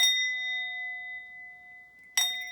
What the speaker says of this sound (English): we're going to start out with our mindfulness, ringing our chime.